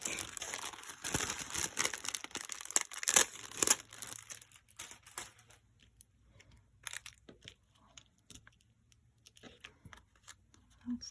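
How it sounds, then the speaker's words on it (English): Vintage tape is peeled from paper during junk journal work. It starts as close crinkling and tearing, dense for the first few seconds, then thins to sparse faint crackles, with no voice. "I got the tape off. Oh my goodness, that was a struggle."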